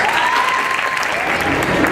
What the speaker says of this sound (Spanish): Por favor, recibámoslo con un fuerte aplauso.